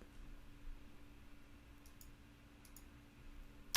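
A computer mouse clicks faintly in a quiet room, with two quick pairs of soft, sharp clicks in the middle of a near-silent stretch, during a part-design session in AutoCAD 2021.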